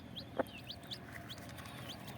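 A hen clucks in a short series of soft calls, with one sharper squawk near the start, close and fairly quiet.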